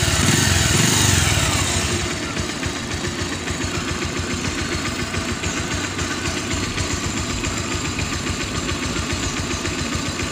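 A small engine idles steadily after a full carburetor clean and tune-up, its even mid-pitched chugging close and constant, with a brief louder rev at the start before settling.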